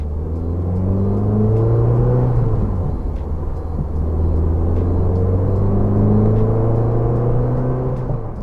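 The engine of a Peugeot 205 Roland Garros hums steadily right after starting, a close, loud, even drone with gentle swells in pitch and no voices.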